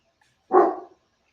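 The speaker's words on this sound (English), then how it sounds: "Of the two, Higgins is the barker for sure" Single short bark from a dog, loud and close, standing alone in an otherwise quiet room.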